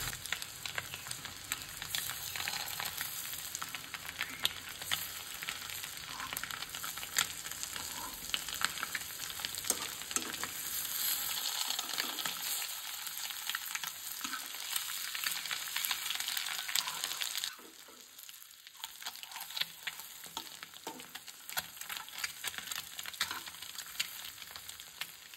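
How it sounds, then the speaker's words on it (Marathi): Prawns fry in oil in a home kitchen pan, a dense continuous sizzle close up that holds steady for long stretches, briefly dips, then resumes, with no talking. "सो हें पळयात ह्या अशा प्रमाणे न्ही हांवें फ्राय करून घेतल्या"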